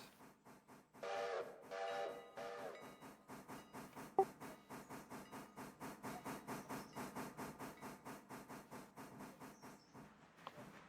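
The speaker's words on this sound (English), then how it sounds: "All right, I'm gonna send the passenger train backwards." A passenger steam train in the Railroader video game reverses, with steady rhythmic chuffs that speed up across the clip. A short whistle-like tone sounds near the start, and a faint click comes near the end.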